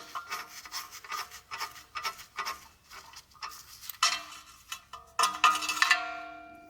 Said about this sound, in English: Taking that bolt out of there.